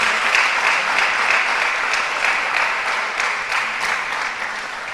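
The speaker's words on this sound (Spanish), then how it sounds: "Le puede dar otro aplauso al Señor usted." A church congregation claps together in a steady, even round of applause, many hands close and loud, holding constant for the whole stretch without voices standing out.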